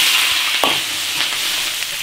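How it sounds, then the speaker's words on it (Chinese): Chili peppers hitting hot oil in an iron wok, a continuous close sizzle with a few brief spatula scrapes and clacks breaking through, steady and moderately loud throughout. "先把辣椒炒一下"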